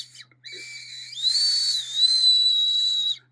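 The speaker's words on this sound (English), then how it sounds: "Whistle works." A small whistle attached by a cord to an Outdoor Element prototype knife gives a few seconds of shrill, piercing tone. A short chirp comes first, then a sustained blast that stays loud and steady before cutting off abruptly.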